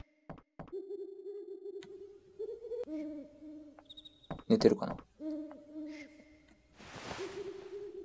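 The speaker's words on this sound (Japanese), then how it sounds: "この鳥の声がずっと気になる" An owl hoots repeatedly in a forest scene of Final Fantasy IX, steady low hoots recurring through the clip amid game sound effects, a brief whoosh and a burst of noise, with a voice speaking briefly.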